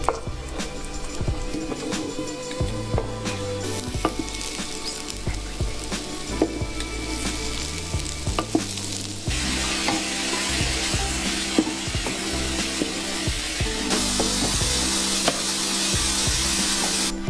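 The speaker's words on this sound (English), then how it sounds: "Next, add in the button mushrooms and stir together." Button mushrooms fry in olive oil with garlic and parsley, giving a steady close sizzle with scraping stirs throughout, growing louder and hissier in the second half.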